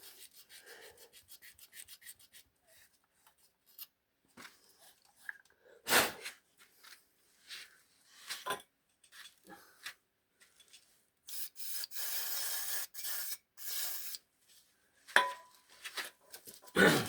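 A surface is rubbed and sanded clean in irregular bursts, with short scraping strokes, louder rasping stretches and a few sharp knocks between near-silent pauses, close by and without talking.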